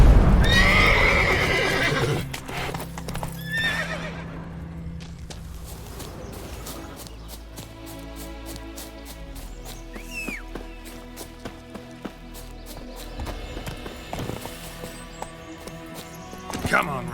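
Game horse from The Witcher 3 whinnies loudly near the start, then hooves clip-clop at a steady gallop beneath music and game effects, with a voice speaking briefly.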